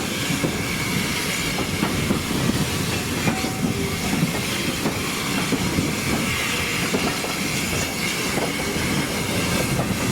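A small steam locomotive on the Kent and East Sussex Railway pulling away with good acceleration, a loud continuous rumble of rolling carriages with clattering wheels and faint hiss, heard close from on board with no talking.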